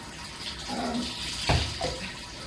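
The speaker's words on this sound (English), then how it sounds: "We've got a hot horse shower to make it nicer." Hot shower water runs over a horse at a horse show, a close, steady rushing spray with a few splashy bursts where the stream hits, no talk.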